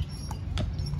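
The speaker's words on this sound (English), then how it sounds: "here comes another horsey pulling a carriage" A few crisp hoof clops from a horse pulling a carriage on pavement at a resort, steady and close, with faint ambient noise around them.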